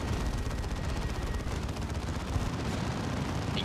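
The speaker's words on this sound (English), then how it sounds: "Now the las cannon getting shots in." Sustained battle gunfire and heavy weapon blasts from a lascannon in Dawn of War 2: Retribution, a dense continuous roar of shots with no clear gaps, fairly loud throughout.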